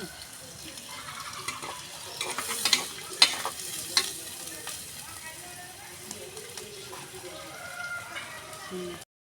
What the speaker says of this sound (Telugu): ఉల్లిపాయలు, పచ్చిమిరపకాయలు, కరివేపాకు వేసుకుందాము.